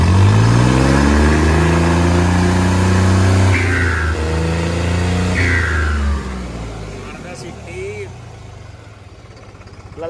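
A New Holland 3630 Special Edition tractor engine revs up loud and close, its rising harmonic drone climbing then easing back toward idle as the turbo whistles, with a voice talking over it.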